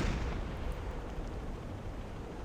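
A deep, rumbling explosion from a World War II submarine game strikes a convoy freighter, and its heavy low boom fades slowly across a couple of seconds with no voices over it.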